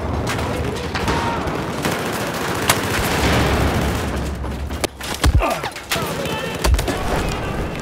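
Assault rifle fire in Battlefield 4 on the Operation Metro map, dense continuous bursts with sharp cracks and booming impacts mixed through a loud battle din, with faint talk in the background.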